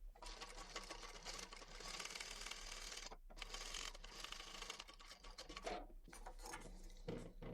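Sewing machine running steadily as it stitches up the four sides of upholstery fabric for a footstool or ottoman cover, a continuous close mechanical whir with a brief pause and a few stop-start bursts toward the end.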